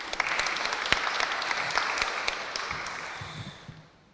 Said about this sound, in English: I want to invite you guys to a new round of applause to all my colleagues.